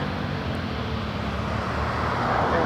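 An Embraer jet rolls out for takeoff at Toronto Pearson, heard as a constant low engine rumble and broad roar at moderate distance, steady with no voices.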